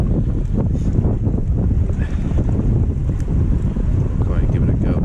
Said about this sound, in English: it'd be lovely if it wasn't that wind